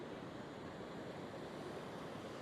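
Ocean waves surge onto the shore on Portugal's south-west coast at sunrise, a steady, dense roar of breaking and rushing water with wind, close and continuous, with no voices.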